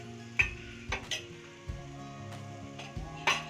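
Fried paneer being stirred into vegetables in a pot with the flame off, producing a few separate scrapes and light clinks of the spoon against metal, sparse and close, with no voices.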